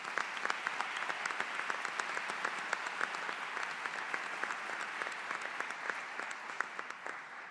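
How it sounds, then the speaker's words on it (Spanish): An audience at an academic chair event in Mexico claps steadily, a dense and even round of applause that carries on throughout. "para ellos un aplauso pido"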